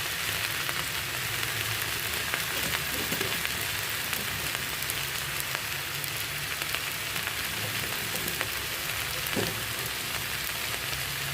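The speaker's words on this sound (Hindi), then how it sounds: "पालक को भी रिड्यूस होने और सॉफ्ट होने तक हम भूनेंगे" Spinach fries in a pan for paneer curry with a loud, continuous sizzle and crackle that stays dense and even throughout, with occasional faint stirring knocks.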